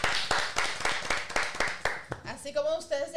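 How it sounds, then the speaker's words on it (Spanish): An audience at an urban music talk show gives a short round of rhythmic clapping lasting about two seconds, then speech with background music takes over. "Un aplauso."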